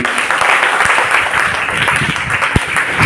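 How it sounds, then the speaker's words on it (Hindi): A seminar audience claps together in a dense, steady round of applause at a motivational event in Chhatarpur, sustained at full loudness throughout with a few sharper claps standing out. "पहले एक बार नैन्सी दुबे के लिए ताली बजा दी"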